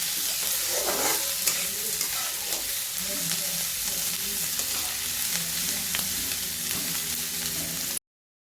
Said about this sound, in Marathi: तर कांदा आपण परतून घेत आहोत.